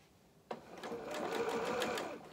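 Domestic sewing machine stitching a beginner's fisherman's top, a short whirring run of a few stitches that starts abruptly, with a rapid needle rhythm heard up close.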